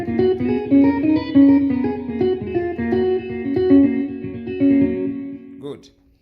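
A Yamaha PSR-S970 keyboard plays a sustained chordal melody with heavy echo effect, notes ringing and overlapping steadily for several seconds before fading out.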